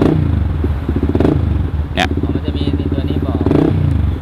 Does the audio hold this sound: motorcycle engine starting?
yes